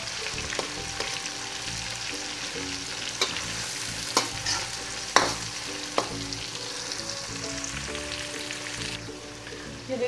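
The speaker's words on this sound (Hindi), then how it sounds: "अब टमाटरों को हम अच्छी तरह सॉफ्ट होने तक पकाएंगे।" Tomatoes fry in a pan for a yogurt chicken curry, with steady sizzling throughout and repeated scrapes and clinks of a spoon stirring, close and continuous with no talk.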